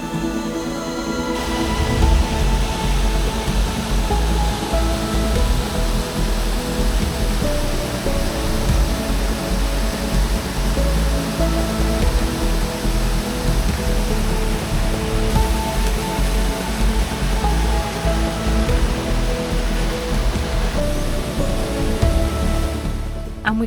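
A waterfall roars in the cool outdoors, a constant broadband rush of falling water heard up close and steady throughout, with no voices over it.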